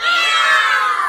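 Many children at a birthday party with a magician let out a loud, drawn-out group cry in unison, imitating a cat's meow.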